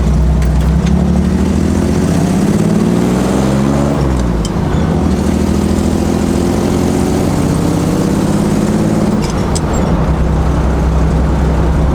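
Truck engine pulling away in second gear, a steady loud low drone with rising pitch that drops around a shift and climbs again, sustained throughout without talk.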